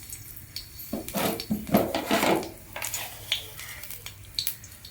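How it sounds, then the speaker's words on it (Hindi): Green chilies frying in mustard oil in a kadai, bursts of crackling sizzle and spattering mixed with a few stirring scrapes, close and fairly quiet, with no one talking. "कड़ाई रे सोरिष तेल पकेबा, कंचा लंका पकेबा"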